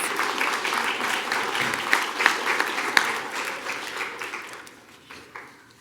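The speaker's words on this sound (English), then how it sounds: "Let's give them one more round of applause" An audience at a Duncanville school district board meeting gives a round of applause, a dense, steady wash of many hands clapping that thins and fades toward the end.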